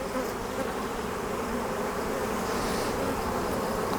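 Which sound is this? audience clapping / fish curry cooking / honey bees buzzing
honey bees buzzing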